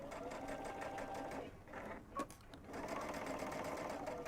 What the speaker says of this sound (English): I'm just going to sew it right along here.